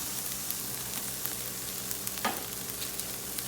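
Garlic sizzles in a pan with sweet potato, maple bacon and chorizo breakfast hash, a steady close hiss of frying with faint stirring clicks and no talk.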